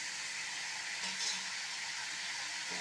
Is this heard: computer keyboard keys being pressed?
no